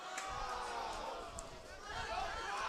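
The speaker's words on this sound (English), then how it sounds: "You can hear the disappointment in the crowd as that call was made" A crowd at a men's college soccer match between Lindenwood and Quincy gives a steady, fairly distant murmur of disappointment at a referee's call, with no single voice standing out.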